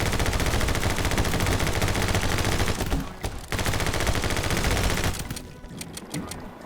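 Dense, continuous rapid gunfire from the action video game My Friend Pedro, a loud machine-gun-like fusillade that cuts out briefly midway, resumes, then thins to a few scattered shots at the end.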